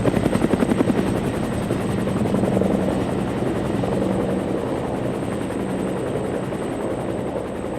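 Helicopter hovering overhead: a loud, steady rotor drone with rapid beating blades that fills the whole stretch without a break.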